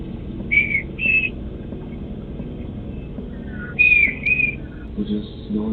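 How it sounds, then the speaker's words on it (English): Short, high whistled notes at night in a quiet neighborhood come in two pairs with a long pause between, clear and somewhat distant over a low rumbling background. "an eerie whistling echoed through a quiet neighborhood"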